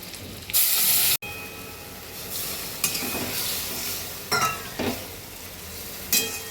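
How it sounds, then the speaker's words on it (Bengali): A thick spice paste hits hot oil and sizzles, followed by several bursts of frying and stirring that rise and fade across the pan. "এই মশলাটা আমি এবার ঢেলে দেব"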